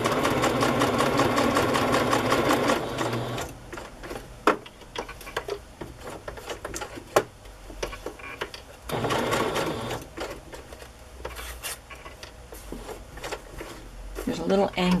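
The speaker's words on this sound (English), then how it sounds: "I think I'll sew this on." Sewing machine stitching through paper ephemera, whirring in a dense continuous run at first, then in shorter bursts and single stitches, with someone talking in between.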